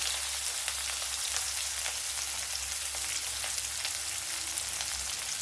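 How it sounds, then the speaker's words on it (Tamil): Sliced onions sauté in hot oil in a pan for a yellow pumpkin tamarind curry, giving a steady, even sizzle that holds at constant loudness throughout, close and alone, with no voices. "வெங்காயம் நல்லா வதங்கட்டும்."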